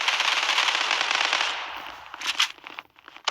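Rapid automatic gunfire in the online shooter Zula, a dense, loud burst for about two seconds that thins into a few scattered sharp shots, with no talking.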